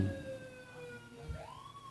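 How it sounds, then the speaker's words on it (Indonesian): An ambulance siren wails with a long falling tone, then sweeps back up in pitch, sounding moderately distant over quiet room ambience. "Oh, ambulan."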